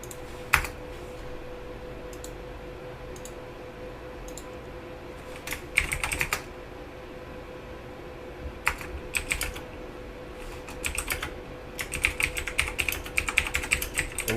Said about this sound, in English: I apologize to everybody for the keyboard if you don't like it.